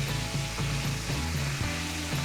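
A wok sizzles loudly as seasonings of salt and pepper are stir-fried for chicken curry, with a steady hiss broken by repeated scraping strokes of the spatula.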